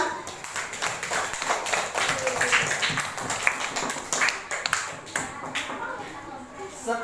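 Classroom applause from students, a scattered, uneven patter of hand claps lasting several seconds, mixed with voices talking over it.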